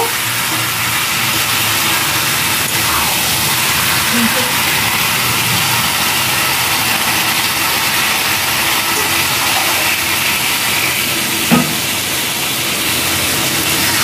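Water is poured into sizzling chicken masala in a pan, giving a loud, steady hiss of steam and frying that holds unbroken for the whole stretch.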